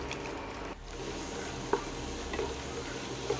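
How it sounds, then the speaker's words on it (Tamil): Cashews and raisins frying in a pan for broken wheat payasam, a soft continuous sizzle with a few faint stirring clicks, close and quiet with no talking. "அந்த முந்திரி வந்து கோல்டன் கலர் வர வரைக்கும் நல்லா வந்து வறுத்து எடுத்துக்கோங்க"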